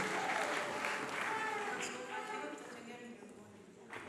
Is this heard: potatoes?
no